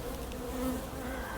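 Honey bees hum in a dense, steady buzz from an opened hive during a nest inspection, close and continuous with no voices over it.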